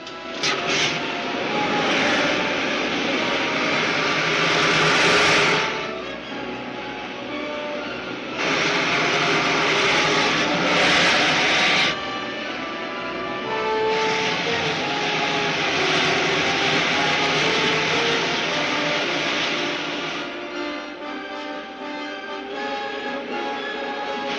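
Rocket ship main jets firing in a 1952 science-fiction serial, a loud continuous roaring engine rush that swells and dips in several surges, with no talk.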